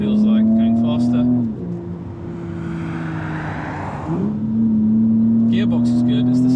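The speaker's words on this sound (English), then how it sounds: "now we're going to get into Sport Plus, just to get an idea of what this car feels like going faster" A 2024 Porsche Cayenne S E-Hybrid V6 in Sport Plus mode accelerates with a steady engine drone that rises in pitch before shifting, heard up close from inside the cabin with a voice speaking at the start and end.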